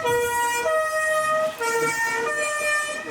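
A loud wailing ambulance siren in Europe near Lake Constance rises and falls in steady cycles, close by, with traffic rumbling underneath.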